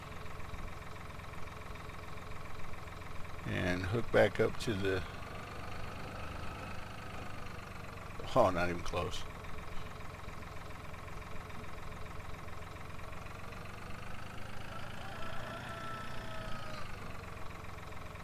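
A steady low tractor engine idles continuously in the background in Farming Simulator 2013 while someone talks briefly over it twice.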